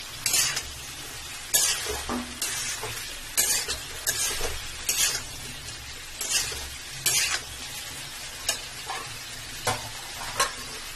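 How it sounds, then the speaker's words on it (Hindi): Spices are stirred into sizzling potato and parwal curry in a pan, a soft steady sizzle broken by repeated scraping strokes of a spoon at a regular pace, close by with no talking. "अब ये हमने अपने मसाले ऐड कर दिए हैं इसमें, और अब इसको अच्छी तरह से हमें मिक्स कर लेना है।"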